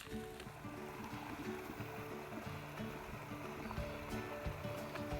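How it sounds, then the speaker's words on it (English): Running water at a small stream used as a water source along the Appalachian Trail, a soft steady trickle and gurgle heard up close beneath faint outdoor background. "I should be able to stick it right under that running water."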